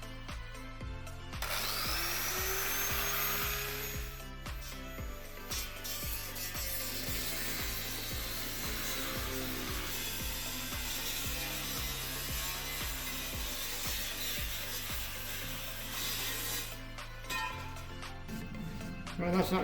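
A power tool cuts out a metal plate for a heat shield, a loud continuous grinding and sawing whine that holds steady for almost twenty seconds, with speech briefly audible under it.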